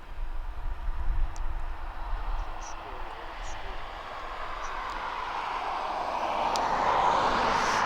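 A jet airliner taxiing at East Midlands Airport gives a distant, steady broadband roar that swells gradually louder toward the end, over low rumble.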